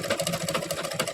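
Sewing machine stitching readymade piping onto a neckline corner, a steady fast mechanical whir with rapid rhythmic needle pulses throughout, close and moderately loud.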